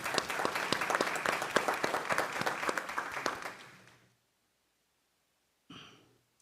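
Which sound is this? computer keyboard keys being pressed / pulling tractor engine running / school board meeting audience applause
school board meeting audience applause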